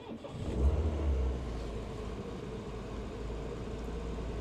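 A Triumph 1500 car engine, parked for over 20 years, starts up on choke on a chilly day, catching with a brief louder burst and then settling into a steady, close rumbling idle.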